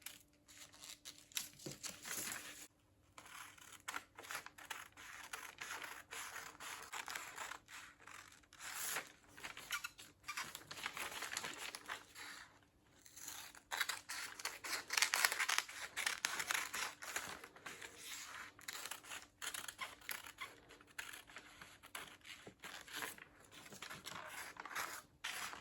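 Scissors cutting fabric for an off-shoulder bodice with a basque waistline, quiet close snipping and rustling cloth in irregular strokes with brief pauses, fairly faint throughout.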